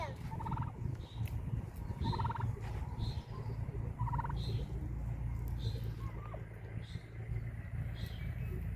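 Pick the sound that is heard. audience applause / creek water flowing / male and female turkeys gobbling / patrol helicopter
male and female turkeys gobbling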